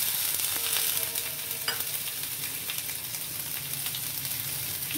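Washed dried prawns fry in oil in a pan, giving a steady, close sizzle with light stirring clatter throughout and no talking.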